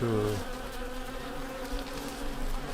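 Close buzzing of hornets near a beehive, a loud droning whine at the start that settles into a steady hum for a few seconds.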